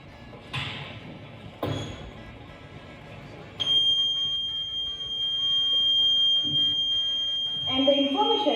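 An electronic intruder-alert buzzer on a science exhibition model sounds a sustained high steady tone after a few knocks, with faint voices and clatter around it.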